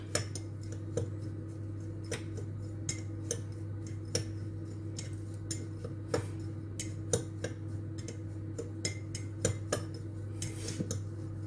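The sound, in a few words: mixing a cheese mixture in a bowl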